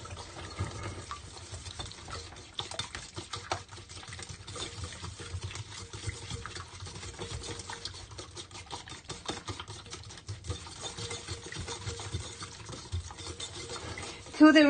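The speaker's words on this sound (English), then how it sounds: "so you just want to whisk this all together" Batter ingredients are whisked together in a bowl during home holiday baking: a long, continuous run of soft rapid scraping and swishing at moderate volume, with a brief knock at the end.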